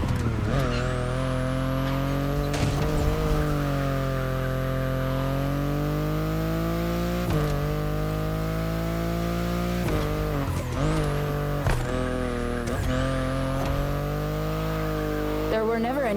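A BMW i8 sports car in The Crew Motorfest drives with a continuous engine drone that rises and falls across gear changes, with sharp whooshing sweeps and brief tire squeals throughout.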